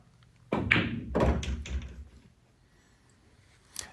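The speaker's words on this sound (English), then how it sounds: "this one I'm just drawing back. Probably set this up for the 8 ball there on the side rail." A pool cue strikes a billiard ball for a draw shot, a sharp close tap followed by a second knock and balls rolling and clacking before fading to quiet, with a faint click at the end.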